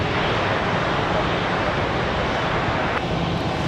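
A Delta airliner, Delta 3166 bound for Atlanta, takes off from runway 23 left at Raleigh-Durham International on a windy day. Its broadband engine roar stays loud and steady, mixed with wind noise.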